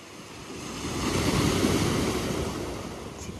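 Ocean waves off Hawaii Island wash in as a broad, steady surf roar that swells toward the middle and eases off, with some wind noise and no voices.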